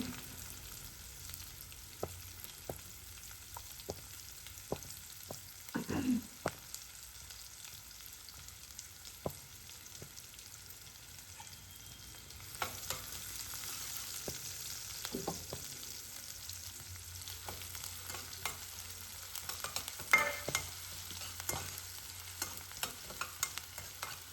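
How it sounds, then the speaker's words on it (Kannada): Curry leaves and finely chopped onion frying in hot oil, a soft steady sizzle with scattered ticks and pops and occasional stirring scrapes, fairly quiet throughout with no talking. "ಎಣ್ಣೆ ಕಾದೈತಿ, ಕರಿಬೇವು ಹಾಕ್ತೀನಿ. ಸಣ್ಣ ಕಟ್ ಮಾಡಿದ್ದ ಒಂದು ಅರ್ಧ ಉಳ್ಳಾಗಡ್ಡಿ ಹಾಕ್ಕೊತೀನಿ."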